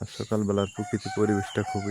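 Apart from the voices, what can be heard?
rooster crowing in the morning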